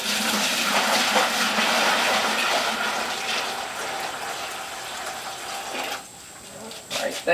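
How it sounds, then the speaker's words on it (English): Water pours steadily into a bucket of sugar sitting on a scale for sugar syrup, a loud continuous splashing rush that fades toward the end and is followed by a few small clunks. "we'll just add water until this reaches balancing point."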